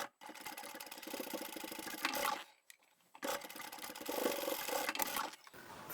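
A sewing machine stitches down the box corners of a fabric bag in two steady runs, each a couple of seconds long, with a short pause between them. The whirring is close and fairly quiet.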